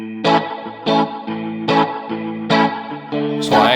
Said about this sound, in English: in the bridge I played a guitar through a Leslie speaker